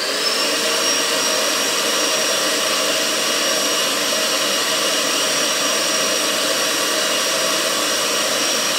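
A gas furnace burner blown by a hair dryer roars steadily and loud while melting bronze in a crucible, a constant rushing blast with a faint high whine, and no one speaks.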